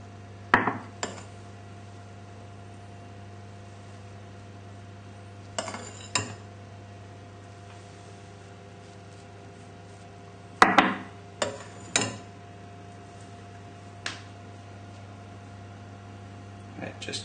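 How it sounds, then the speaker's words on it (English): Spoon scrapes and clinks against ramekins come in small sporadic bursts as lemon curd soufflé mix is spooned into dishes, close but faint over a steady low hum, with soft talk at times. "So just gently spoon the mix on top."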